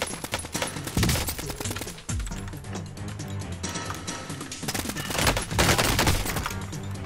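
Loud, rapid AN-94 rifle bursts in a Warzone match, with dense automatic fire and a brief pause before the shooting resumes, close and continuous.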